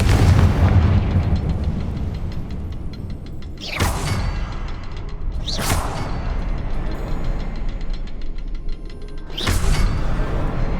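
In the Hogwarts Legacy video game, a Confringo fire blast spell explodes as three separate booming blasts spaced a few seconds apart over a steady rumbling game background, with no voices.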